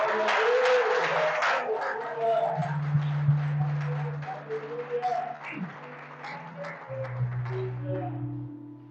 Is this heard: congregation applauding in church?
yes